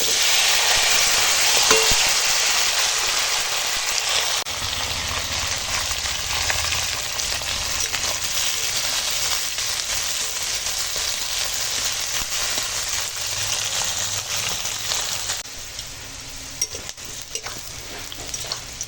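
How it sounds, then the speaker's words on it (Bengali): Drumstick stalks and chopped onion dropped into hot oil, giving a loud, dense, continuous sizzle that settles slightly after a few seconds, with occasional faint stirring taps near the end and no talking. "তেল গরম হয়ে গেছে দিয়ে দিলাম"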